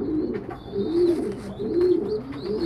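Young pigeon squabs at the feathering stage coo softly in repeated low, rolling phrases, close by and steady, with a faint high background hiss and no voices.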